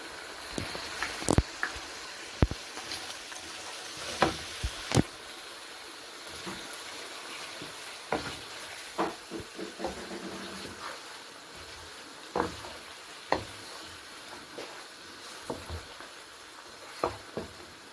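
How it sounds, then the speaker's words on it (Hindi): Meat frying in a pot for aloo gosht with garlic and ginger paste, a steady soft sizzle with scattered sharp clicks and scrapes of stirring, moderately close and alone. "सात से 8 मिनट इसको भून लेंगे।"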